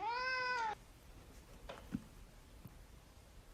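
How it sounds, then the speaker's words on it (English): A cat gives one clear, close meow lasting under a second, then quiet room noise with a few faint knocks follows. "So this is my cat."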